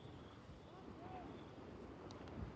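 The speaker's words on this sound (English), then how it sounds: "feeling every bit of the wind" Wind gusting over choppy water on a lake at Covenham, a steady low buffeting roar across the microphone, with faint distant sounds over it.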